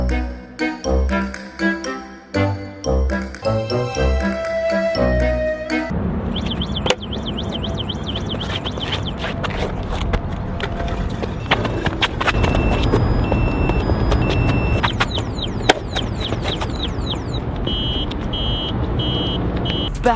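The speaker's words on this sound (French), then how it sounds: "Parce qu'il y a, oui, effectivement, une belle alarme." Anti-theft alarm on an electric scooter sounding after the scooter is moved, loud repeating electronic tones and jingling over a steady wash of noise, with clattering handling sounds at the start.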